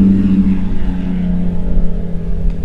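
A Honda CB150 motorcycle engine runs close and loud, a low, buzzing drone with a slight wavering rise in revs.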